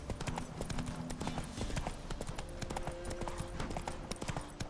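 Hooves of a horse trotting in the open-world game The Witcher 3, a steady clip-clop rhythm running the whole time with a faint whinny and background game ambience.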